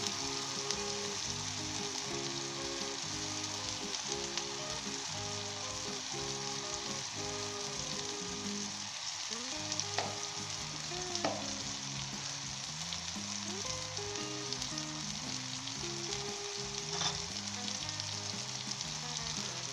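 Eggs sizzle and crackle steadily in a pan on top of tomato slices, a close, even frying hiss that runs throughout with a few faint clinks and no talking.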